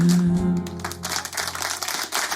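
An audience applauds a singer at a public TV show taping; a held sung note fades out and a dense, steady wash of clapping from a crowd rises and continues to the end.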